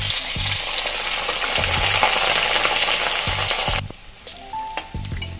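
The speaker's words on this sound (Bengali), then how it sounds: "মশলাগুলো ভাজা ভাজা হতেই আমি দিয়ে দিচ্ছি কুচনো পেঁয়াজ" Chopped onions hit oil with tempered spices for Hyderabadi chicken masala, giving a loud crackling sizzle and stirring clatter that suddenly drops to a quieter fry with light utensil clinks.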